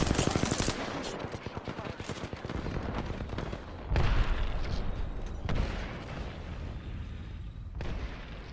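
Rapid automatic gunfire from Apex Legends Arenas rattles in dense bursts, with heavier booming impacts around the middle of the match, loud and close, while the game's sound effects fill the background.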